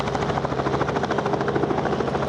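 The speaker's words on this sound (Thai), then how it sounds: "เฮลิคอปเตอร์" A helicopter thunders close by with a fast, steady rotor chop and a dense engine roar that stays loud and even throughout, with no voices over it.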